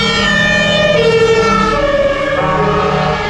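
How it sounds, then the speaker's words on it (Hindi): A loud emergency siren, likely a fire engine or ambulance in Germany, blares continuously up close, its wailing tones steady and piercing throughout with no talking. "ये सायरन बड़ा थोड़ा सा ना बहुत तेज़ और इरिटेटिंग सा होता है"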